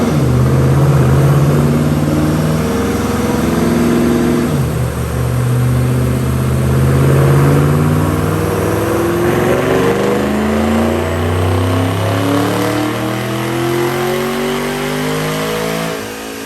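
A supercharged 2010 Mustang GT automatic with a Brenspeed Vortech supercharger on 93 octane, revving hard on a dyno in a long pull, its loud engine note climbing steadily in pitch, then dropping and rising again, close and continuous.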